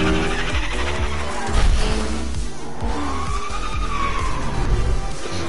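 Racing cars skid in a Rocket League-style Fortnite map, a video game, with close, loud tire squeals and skids over revving engines, and a longer screech midway.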